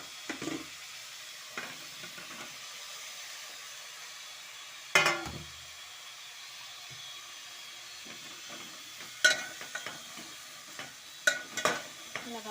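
Mushrooms frying in a pan for mushroom curry, a soft steady sizzle with occasional sharp scrapes and clinks of a spatula stirring, fairly quiet and close.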